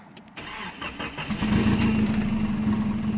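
A Nissan S12 Silvia Turbo engine cranks briefly in neutral, then catches and settles into a steady, close idle with a low rumbling hum.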